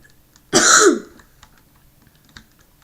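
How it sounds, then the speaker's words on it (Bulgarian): A single harsh cough, loud and close, from a person playing Minecraft SkyWars, followed by quiet keyboard tapping. "Извинете за кашлицата."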